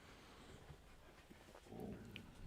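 Pet dog whimpering and panting softly at close range, the whines thin and intermittent before a brief louder burst near the end.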